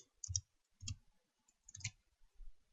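A computer mouse clicks while working in a Java IDE: four soft, separate clicks spaced about half a second apart, quiet and close with near silence between them.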